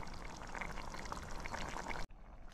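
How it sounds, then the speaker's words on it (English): Water poured into a small camping cook pot of minestrone soup outdoors in winter: a short, soft, continuous trickle that stops abruptly near the end, quiet and close. "I added 150ml of water as well, but you just keep adding bits of water as you go along."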